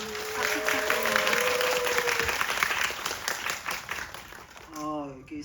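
Audience applause fills a CGV Yongsan cinema during a special screening Q&A for the film Escape, steady clapping with a voice talking over it early on and again as the clapping fades near the end.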